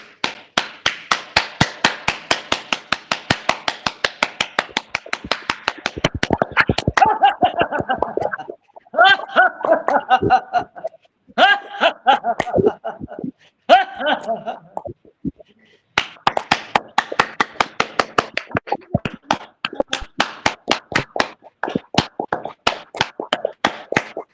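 A group in a yoga session claps hands in a steady, brisk rhythm that runs for a long stretch, briefly shifting into looser clapping mixed with voices before resuming the even beat.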